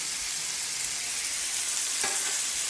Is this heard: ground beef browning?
yes